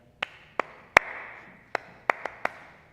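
A church congregation taps a rhythm pattern during a participatory music service, sparse sharp taps spaced irregularly with one louder hit, heard alone in a quiet room with no talking.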